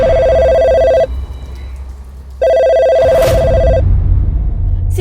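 A telephone rings with steady electronic tone bursts, loud and close, followed by a pause and a second ring; faint background noise sits underneath, with no speech.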